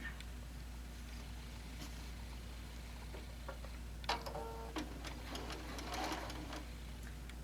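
A sewing machine stitches across the top of a barbecue apron made from a panel, a steady low hum running quietly throughout, with a brief burst of louder clatter midway and no talking.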